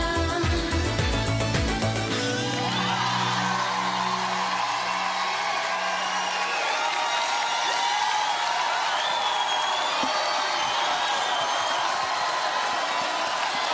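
An audience applauding at a Star Academy show, a dense, steady wash of clapping and crowd cheering that carries on throughout after music fades out at the start.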